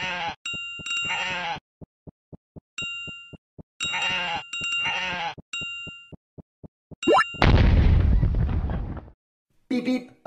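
Cartoon space sheep bleat in a children's video game, several loud synthetic baas separated by bursts of rapid ticking, a chime and a sudden noisy crash near the end.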